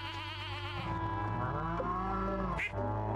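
Farm animals in the Stardew Valley video game, cows and similar livestock, give layered bleating and mooing calls that overlap with steady game background sound, continuous and moderately quiet throughout.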